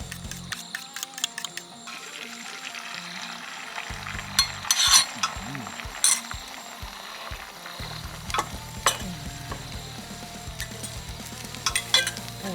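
An omelette with chili paste and makhwaen pepper fries in a pan at a Nan homestay, with continuous crackling sizzle, metallic spatula scrapes and knocks against the pan, and bursts of louder spattering.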